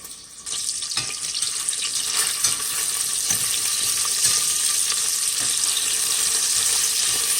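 Bacon sizzles in a Cosori electric pressure cooker pot, a dense, steady crackling hiss that starts abruptly and holds at an even loudness, with faint occasional clicks and no voices.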